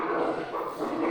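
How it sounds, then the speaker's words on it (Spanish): Dogs fight in a scene from the film The Exorcist, a brief burst of close growling and snarling over dense background sound. "Los perros peleándose"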